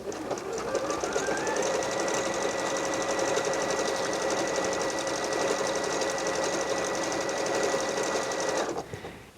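Bernette b38 sewing machine stitching out a decorative motif combination, a steady, close, rapid mechanical whir and needle clatter running continuously for about nine seconds before stopping.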